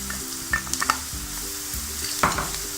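Steady sizzling of ginger garlic paste frying in a pan, with occasional stirring scrapes and clinks over a continuous hiss.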